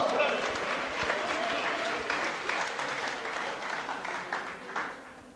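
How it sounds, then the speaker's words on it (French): An audience at a French talk breaks into sustained applause, with many hands clapping steadily for several seconds and tapering off toward the end. "On peut acclamer ça?"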